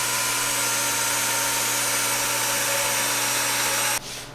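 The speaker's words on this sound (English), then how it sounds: "Cheap Canadian Tire drill bits can't drill worth a shit." A power drill whines steadily with a cheap Canadian Tire bit, a loud continuous buzz with a strong low hum that cuts off abruptly near the end, leaving a quieter rattle.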